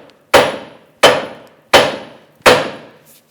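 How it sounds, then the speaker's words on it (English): A hammer strikes a steering knuckle on a 2003-2008 Toyota Matrix four times at an even pace to free a stud, each loud metallic blow ringing briefly before fading, with no speech. "tap the knuckle right here with a hammer and break the stud free"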